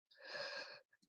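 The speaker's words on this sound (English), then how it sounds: "sorry about the yawning" A single drawn-out human yawn, about three-quarters of a second of breathy, strained voicing that swells and fades, followed by a couple of small breaths or mouth sounds, fairly close and alone with no talk.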